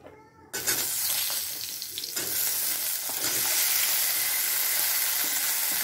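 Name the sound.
stir-frying diced mango in five-spice tempering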